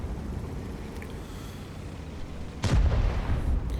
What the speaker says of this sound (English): the FukWit puts a shot into the side of the Tier 9 Chinese heavy tank